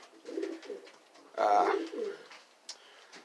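A racing pigeon gives low, throaty coos, a few soft calls with one fuller, louder coo in the middle. It is recorded close up and quiet, with no one talking.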